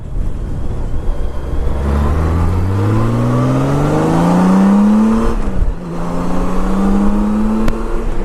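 A Honda Goldwing motorcycle accelerates onto a highway, its engine note climbing steadily through the gears with a brief dip at a shift, loud and close with steady wind rush.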